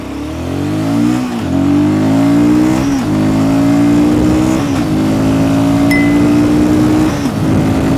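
A Royal Enfield Guerrilla 450 motorcycle pulls hard from a standstill toward 100, its loud, close engine climbing in pitch again and again as it shifts up through several gears.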